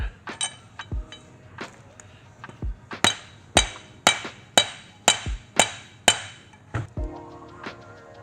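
Metal socket hammered down onto a suspension part on a 2022 Ford F-series truck build, giving a series of about a dozen sharp, close metallic strikes, faster and steadier in the middle run.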